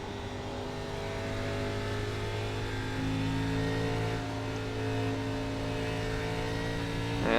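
An ARCA Menards Series race car in the iRacing simulator at Watkins Glen: a steady, loud engine drone that holds its pitch through second gear and swells slightly near the end as it climbs toward third.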